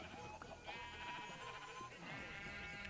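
A sheep in Minecraft bleats in wavering calls over busy background game noise and music, fairly faint in the mix.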